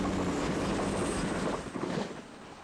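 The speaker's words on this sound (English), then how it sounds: "this cross-country Voyager is passing the site of the original Warren station" A Cross-Country Voyager train passing near Warren footbridge on the Starcross to Dawlish line: a loud, continuous rushing roar of wheels and wind that fades slightly at the end, heard alone.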